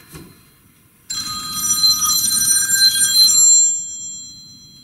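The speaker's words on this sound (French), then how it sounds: "et le téléphone qui sonne." A telephone bell rings steadily for about two and a half seconds in a workshop where a Voltaire armchair back is being tufted, loud and close after a brief faint sound, then cuts off and fades.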